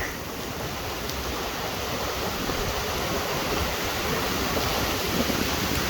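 Very strong rain pours down during a thunderstorm in Plovdiv, a dense, steady roar of heavy water that stays loud and unbroken throughout.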